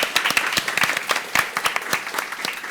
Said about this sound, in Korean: 두 분의 대표님께 다시 한번 뜨거운 박수 부탁드리겠습니다